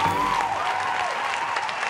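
Applause from a live audience, a steady, even wash of clapping across the whole stretch, with a faint whistle-like tone riding over it early on.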